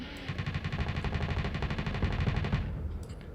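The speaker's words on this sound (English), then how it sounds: "Switch to your assault chain guns and punch through the armor." Assault chain guns fire in the Starsector space combat game as one rapid, sustained burst of evenly spaced shots. The burst lasts about two and a half seconds, then cuts off sharply.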